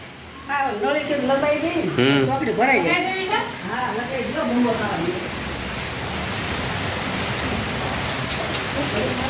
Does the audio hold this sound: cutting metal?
no